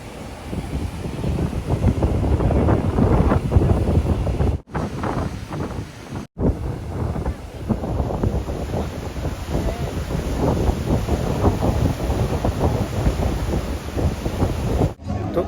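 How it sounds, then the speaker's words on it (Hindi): Steady sea breeze buffeting the microphone at a waterside ghat in Dwarka, a continuous broadband rush with gusts, loud and close, broken by a few brief dropouts. "हल्का हल्का पानी का ब्रीज भी मुंह पर लग रहा है"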